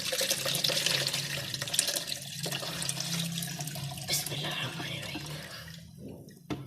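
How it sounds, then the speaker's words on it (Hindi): Milk pours steadily into a dish while making bread kulfa, a soft continuous liquid splash close by that trails off near the end. "अब मैं इसमें दूध डाल रही हूँ।"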